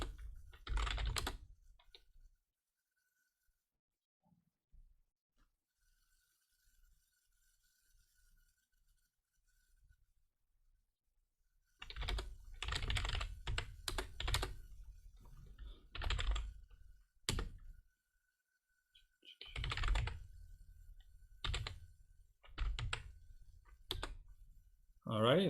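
Fingers type on a computer keyboard at a command prompt, sending bursts of rapid key clicks between stretches of near silence, loud and close.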